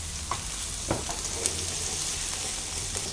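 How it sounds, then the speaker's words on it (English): Poblano peppers sizzling in an oiled pan, a steady close hiss of frying with occasional light stirring clicks, no voices. "We're gonna put some oil in a pan and just throw in the poblano, let that warm up."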